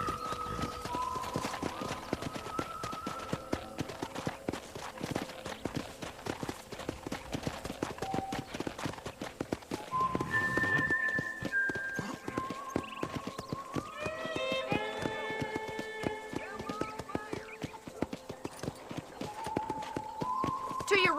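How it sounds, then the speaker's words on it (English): Steady clip-clop of horse hooves at a trot in Red Dead Redemption, with a brief whinny and speech-like voices and game music around it throughout. "let's see if you can still ride a horse"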